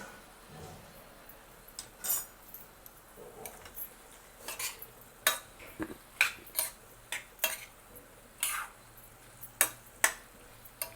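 A spoon stirs ridge gourd in a pot just after the lid comes off, making a string of sharp metallic clinks and scrapes in an uneven rhythm over a quiet background.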